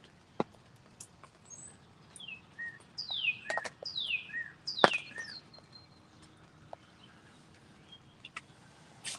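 Wild birds chirp and call outside a turkey hunting blind in the woods, a string of quick descending tweets and sharp notes, moderately close, loudest mid-clip over a quiet outdoor background.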